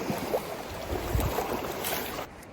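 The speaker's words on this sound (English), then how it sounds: "it sounds like another stream" Icy cold water rushes and gurgles steadily close by, a busy flowing mountain stream with small splashes throughout.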